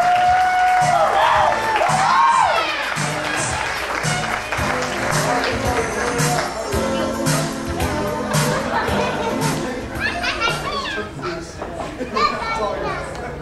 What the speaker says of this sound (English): Ladies and gentlemen, a nice big round of applause for our maid of honor, Amy Follenkamp, escorted by best man